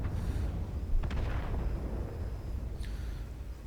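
M44 self-propelled artillery firing in World of Tanks, a tank battle game. Muffled distant blasts sound about a second in and again near the end, over a constant low battlefield rumble, with no talk.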